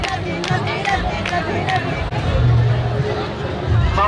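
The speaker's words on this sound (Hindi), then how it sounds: "एंट्री गेट से बहुत ज्यादा भीड़ है" Dense crowd hubbub at the entry gate of a temple in Barsana during a flag-hoisting ceremony, with loud, continuous overlapping voices and movement, close and steady throughout.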